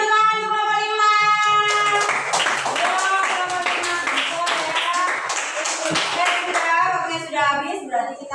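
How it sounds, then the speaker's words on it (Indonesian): Group clapping in a classroom for a student team, a short burst of hand claps with children's voices talking over it, sung or spoken tones present before and after the applause. "Beri tepuk tangan untuk kelompok 5."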